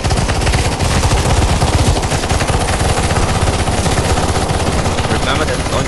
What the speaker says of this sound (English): Do not throw nades, just shoot the boss.